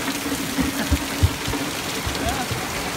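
Heavy torrential rain pours steadily as a broadband wash with scattered low thumps of drops, close and continuous, without any clear talk over it.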